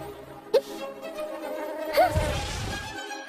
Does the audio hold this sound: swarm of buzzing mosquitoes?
yes